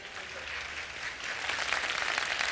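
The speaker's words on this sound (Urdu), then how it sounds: "اب آپ کی تالیاں بتائیں گی کہ یہ آپ لوگوں کو کتنا پسند آیا ہے" Studio audience applause on an Iftar television show, a dense wash of clapping that swells slightly louder toward the end, alone without talk.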